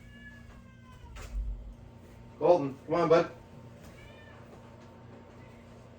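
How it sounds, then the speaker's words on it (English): A cat meows twice in quick succession, fairly close, over a steady low household hum, with a person speaking briefly beforehand. "Hold on, the cat's getting a little wild here."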